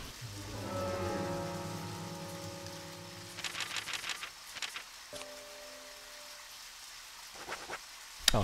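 Rain falls steadily in the video game Deadly Premonition, a constant hiss under droning, tonal game music, with scattered short knocks and clatters partway through and a sharp click near the end.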